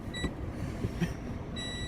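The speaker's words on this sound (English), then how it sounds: "Beeps in reverse." Three short, high electronic beeps spaced apart, a Toyota Corolla T Sport's reversing warning tone over a low steady rumble.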